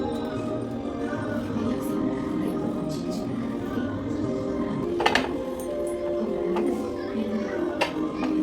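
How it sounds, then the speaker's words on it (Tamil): Dishes, pots and pans are washed in a home kitchen: a low running wash with a few sharp clinks and knocks of metal and crockery now and then. "பாத்திரம் கழுவுற வேலை இருந்துச்சு, அதனால் பாத்திரமும் கழுவிட்டேன்."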